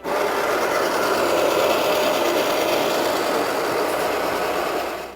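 A Baratza coffee grinder set near the espresso end of its range grinds cleaning tablets, making a loud, steady, gritty whir that runs unbroken for about five seconds before easing off at the end.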